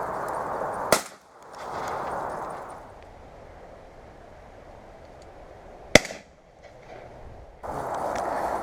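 Two sharp, loud shotgun blasts from pigeon shooting over laid crops, about five seconds apart, each followed by a brief muffled rumble against quiet open-air background.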